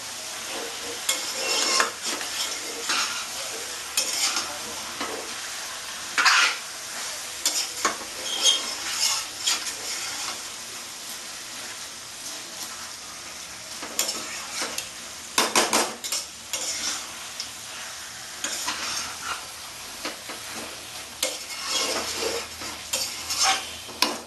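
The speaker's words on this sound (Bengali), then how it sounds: "মাংসটা খুব সুন্দর করে কষতে হবে" Chicken for Bengali-style biryani being sautéed in a pan, with a steady sizzle and repeated scraping, clanking strokes of a metal spoon throughout.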